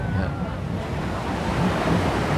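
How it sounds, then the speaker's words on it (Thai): Sea waves at Cha-am beach, a busy Thai seaside resort, roll and wash steadily in a broad surf roar, with wind buffeting the microphone throughout. "บรรยากาศชายหาด"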